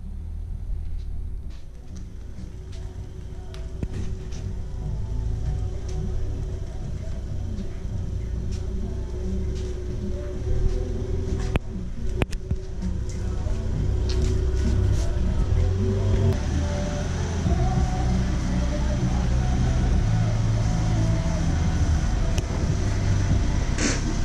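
A Ford Fiesta ST engine rumbles low and close, idling and creeping forward into a garage, growing slightly louder near the end with occasional clanks.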